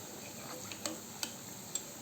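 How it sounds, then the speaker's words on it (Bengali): Palm pitha cakes fry in a pan as a steady soft sizzle, broken by a few brief crackles and pops; no voices. "এখন ভেজে নেব।"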